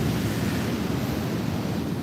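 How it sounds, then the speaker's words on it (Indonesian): Ocean waves wash onto an eroding beach at Muaro Bantiang, Tarusan, in a steady, loud broadband roar of surf with wind rushing across the microphone, no voices present. "ini kita lihat nih ombaknya"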